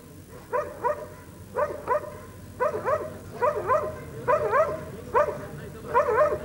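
Dog yips and whimpering barks in short bursts, about seven clusters spaced roughly a second apart, fairly close with no talking.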